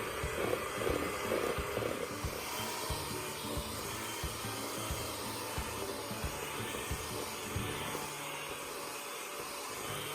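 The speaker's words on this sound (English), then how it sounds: "we're going to beat them with the hand mixer right here" An electric hand mixer beats vegan chocolate cake ingredients, a steady whirring motor drone held close and loud for the whole stretch, with no voices over it.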